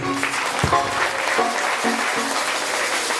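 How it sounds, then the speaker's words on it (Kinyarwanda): Congregation clapping in a church service, a steady dense wash of applause filling the room, with a few louder claps standing out near the start. "tugukomeye amashyi menshi"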